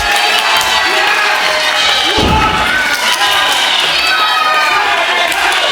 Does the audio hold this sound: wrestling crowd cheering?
yes